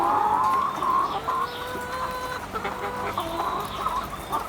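Farm chickens cluck close by in a steady stream of short overlapping calls, with a few higher bird notes mixed in and no voices.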